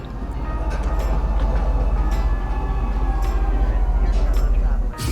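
A train rolls along steadily in the space game Star Citizen, a continuous close rumble with faint rhythmic clatter and a brief dip near the end, with no talk over it.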